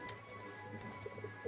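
A pigeon coos softly in a few low, brief calls near the end, set against steady faint background hum and a high tonal whine, in a pigeon loft where fancy flying pigeons are kept.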